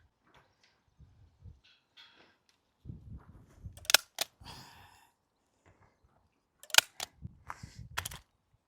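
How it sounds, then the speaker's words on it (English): A stapler fastens a tie wrap to a DIY onion cage, giving several sharp, close metallic clacks amid soft handling rustles and low thuds, in a fairly quiet garden setting. "I'm going to staple the tie wrap to the top of here"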